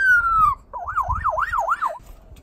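A wild magpie mimics an ambulance siren, starting with a falling whistle and then a rapid up-and-down wail over about two seconds, loud and close with faint background noise.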